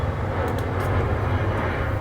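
Airplanes pass overhead as a steady, broad, low engine roar fills the background, constant and moderately loud with no talking.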